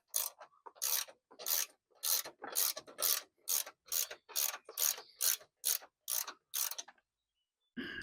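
A hand ratchet loosens a 12 mm bolt during a horn install on a 2025 Toyota 4Runner. About a dozen sharp, close ratcheting bursts come in an even back-and-forth rhythm, followed by a short pause.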